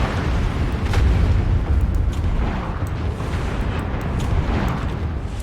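Heavy explosions from a battle in the video game MechWarrior 5: Mercenaries rumble in a dense, continuous wall of booms and crackling debris, loud and close for the whole stretch.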